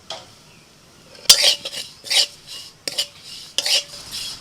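A spoon scrapes and clinks against a pan in four or five short bursts, stirring sesame seeds while poppy seeds go in, with quiet gaps between strokes and no talking.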